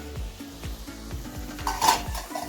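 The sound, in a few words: cauliflower added to sizzling pan for pav bhaji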